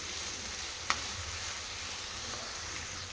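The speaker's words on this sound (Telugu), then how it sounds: "కొద్దిసేపు చిక్కుడుగాయలు కలుపుకోవాలి తాలింపులో" Broad beans (chikkudukaya) stirred into hot tempering oil in a pan, a steady, even sizzle with one brief scrape or clink near the start; no voices.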